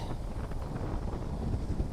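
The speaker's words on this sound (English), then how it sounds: "it is very windy and my fishing rod is swaying" Steady wind buffeting the microphone on a beach in Caleta de Fuste, Fuerteventura, a constant low rumble and roar filling the whole clip without pause.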